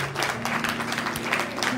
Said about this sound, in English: Can you clap your hands and bless God tonight?